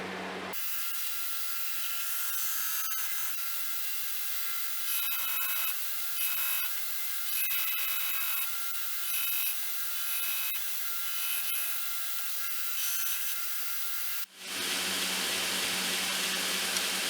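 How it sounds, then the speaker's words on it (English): Steady rhythmic scraping of abrasive paper rubbed back and forth by hand across a Damascus steel knife blade, close and continuous, stopping near the end followed by a brief softer noise. "then we'll move on to hand sanding"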